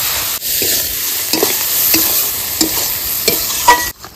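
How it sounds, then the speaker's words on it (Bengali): Boiled chickpeas stirred into spiced potatoes frying in a pan, a steady loud sizzle with repeated scraping strokes of the spoon, ending in a sudden drop. "আলু মশলার সঙ্গে কষানো হয়ে গেছে, এবার আমি ছোলাগুলো দিয়ে দেবো, সিদ্ধ করে রাখা ছোলা।"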